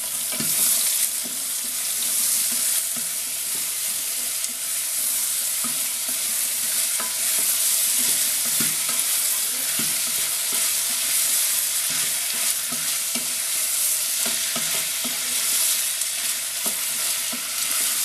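Garlic, ginger and onions sizzle steadily in a hot pan while a utensil stirs them with scraping and clinking, a continuous close frying hiss throughout.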